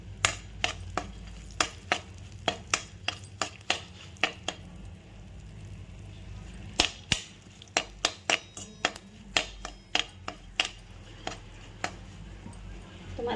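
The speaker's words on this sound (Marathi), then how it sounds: "थोडे फ्राय करून घ्यायचे ते तुपात" Dry fruits fry in ghee in a pan as part of a Maharashtrian festival offering, with a steady sizzle broken by a quick series of sharp clinks and stirring knocks close at hand.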